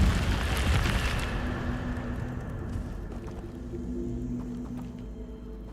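An Incendio fire spell bursts in Hogwarts Legacy, a whooshing flare of flame at the start that fades into a low rumbling ambience, with no talk.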